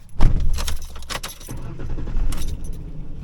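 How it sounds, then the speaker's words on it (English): A 2007 Ford Ranger 3.0L engine cranking and starting on a new battery: a loud, close burst of starter whir as it catches, then the engine settling into a steady idle rumble. "we want to test to make sure this new battery will start the car up okay."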